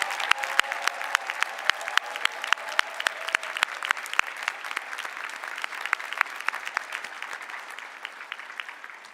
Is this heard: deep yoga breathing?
no